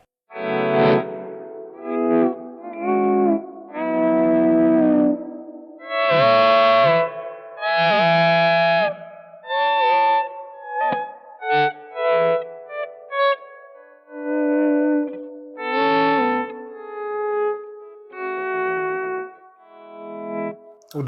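Electric guitar played through a PRS DGT 15 amplifier with delay and reverb effects: a run of sustained notes and chords with echoing tails, loud and alone with no talk.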